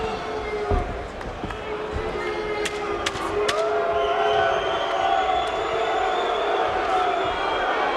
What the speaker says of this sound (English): the boos grow louder and louder